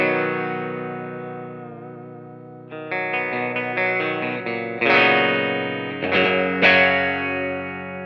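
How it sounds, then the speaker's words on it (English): A Stratocaster electric guitar plays through its bridge pickup with no pedals: a long sustained chord rings and fades, then a run of struck chords and single notes follows with bright attacks, loud and close. "you're just gonna hear the bridge pickup without any pedals on right now."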